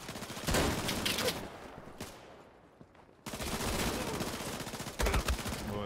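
Bursts of rapid gunfire from a weapon in the shooter game Battalion 1944, loud and close, with a short lull midway before dense firing resumes.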